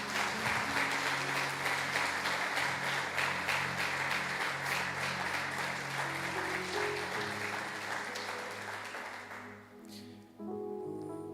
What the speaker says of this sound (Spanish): ¿Qué tal si le damos ese fuerte aplauso a ese buen Dios?